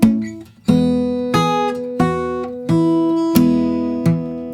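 Fingerstyle acoustic guitar plays the opening bar of Jingle Bells, five or six clear plucked notes ringing out in a steady beat after a brief pause, close and solo with no voice.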